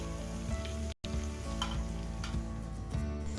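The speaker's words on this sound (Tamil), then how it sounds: "வெங்காயம் நல்ல பொன்னிறமாக வர வரைக்கும் அடுப்பை மிதமான தீயில வச்சு நல்லா வதக்கி விட்டுருங்க" Onions frying in a pan over medium heat while being sautéed golden for chicken curry, a steady close sizzle with faint stirring scrapes, briefly cutting out near the start.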